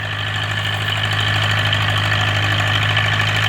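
A YuMZ tractor's diesel engine drones steadily in first gear while pulling a plough uphill, a loud continuous knocking hum with a low constant tone, heard alone without speech.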